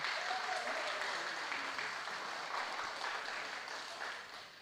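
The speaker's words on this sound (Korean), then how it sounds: "박수 부탁합니다." Continuous applause from a congregation at a Sunday church service, a dense wash of clapping that holds steady and then slowly fades toward the end.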